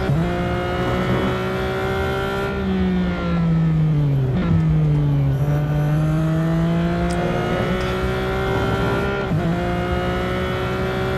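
Ferrari F50 racing the Bugatti circuit in Real Racing 3, its engine note climbing and dipping through gear changes and braking, loud and continuous with no talk over it.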